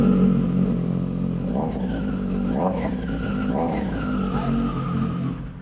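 A superbike engine revs repeatedly, rising and falling in sharp high-pitched bursts over a steady idle, loud and nearby.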